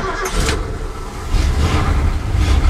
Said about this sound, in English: Don't you just love how this old redneck's got this truck running?